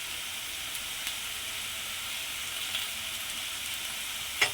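Green chillies and curry leaves fry in hot oil for an egg gravy curry, giving a steady, even sizzling hiss close by with a faint clink now and then.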